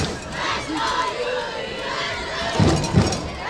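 A crowd roars and cheers in the stands at a high school football game between University and Venice High. The broad, sustained noise swells near the end with a couple of heavier thumping bursts.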